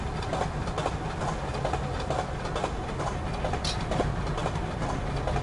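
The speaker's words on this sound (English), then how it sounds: "If I jump off the train, does it just keep going?" Steady rumbling rattle of a moving train in the VR game Cave Digger: Riches, continuous and fairly loud with light irregular clacks, a brief brighter squeak midway, no talking.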